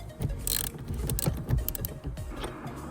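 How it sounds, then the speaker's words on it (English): A bolt holding the seat belt on a BMW E39 523i Touring seat is loosened, close ratcheting clicks and creaks in quick irregular bursts. "we need to loosen this bolt. That holds the seat belt, so you can just pull it straight out from the seat."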